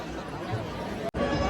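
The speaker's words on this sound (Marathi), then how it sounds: "फुल गर्दी आहे बघा, बसायला चान्सच नाही अजिबात" Dense crowd chatter fills a packed gathering at the Banganga maha aarti in Mumbai, a steady close babble of many voices with no single voice standing out and a brief drop near the end.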